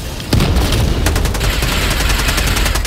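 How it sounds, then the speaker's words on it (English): Grenade blasts in Helldivers 2 burst out loud and close, one sudden boom followed about a second later by another, leaving a dense rumbling roar that carries through to the end. "Okay, I threw some grenades."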